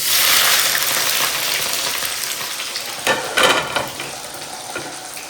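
Cumin seeds hit hot oil in a home kitchen pan, giving a loud, bright sizzle that slowly fades, followed by a few sharper crackling bursts as the frying continues.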